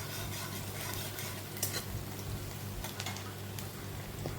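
Chopped onions frying in oil in a pan over lowered gas for a fish curry, a steady close sizzle with occasional stirring scrapes, no talking.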